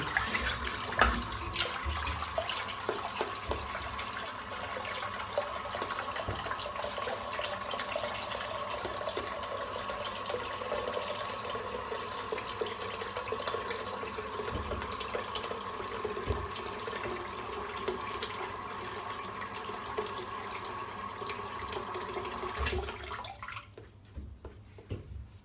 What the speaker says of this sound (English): I'll put some water in the sink again.